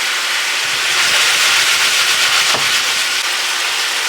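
Meat browning in lard on an electric stove, a steady loud broadband hiss and sizzle, continuous and close with no talking.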